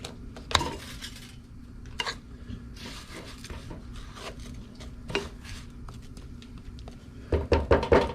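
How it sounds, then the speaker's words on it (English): Crushed garlic is stirred in a cooking pot for Mexican rice: a spoon scrapes and clinks against the pan in irregular strokes, with a faster flurry of knocks near the end, close and fairly loud. "Stirring."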